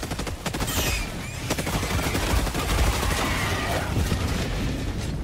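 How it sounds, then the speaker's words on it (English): A sentry turret in the video game Helldivers 2 fires a continuous rapid burst of automatic gunfire, loud and close, with dense overlapping shots running throughout. "Calling down a sentry!"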